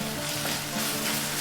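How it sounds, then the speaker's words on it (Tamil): Ginger garlic paste sautéing with onions and a pinch of salt in a pan, a dense, continuous close sizzle with faint stirring scrapes and no talking. "இதோட ஒரு பிஞ்ச் அளவுக்கு உப்பு சேர்த்துக்கலாம். அப்போதான் இஞ்சி பூண்டு பேஸ்ட் கடாயோட ஒட்டாமல் வதங்கும்."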